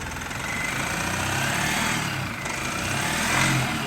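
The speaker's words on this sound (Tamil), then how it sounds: "வண்டி பக்கா ரன் ஆகுது." A Mahindra Supro engine runs steadily just after starting, a continuous close mechanical drone with slight rises in intensity and no voices.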